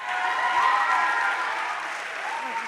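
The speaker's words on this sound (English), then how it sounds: "Give yourself a big round of applause." An audience at a LEAP Week 2025 talk gives a full, steady round of applause, a dense wash of clapping heard for a few seconds without speech.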